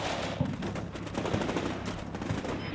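A video game artillery piece firing in the Combat Mission Black Sea US city fight, a dense rumbling blast with rapid repeated booms and rolling reports at moderate volume.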